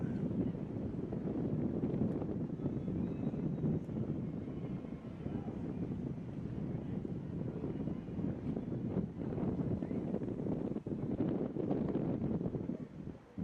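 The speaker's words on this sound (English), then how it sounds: "Wind is picking up here. You can hear it at Durham County Memorial Stadium." Wind gusts across the microphone at Durham County Memorial Stadium during a flag football playoff game, a steady, rough rumble with faint voices underneath.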